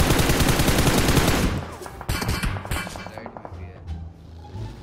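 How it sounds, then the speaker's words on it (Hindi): Rapid automatic gunfire from the PUBG Mobile video game, a loud dense burst of shots at first, then scattered sharper shots fading into quieter distant fire. "इधर से शॉट्स आ रहा है, इधर से शॉट्स आ रहा है।"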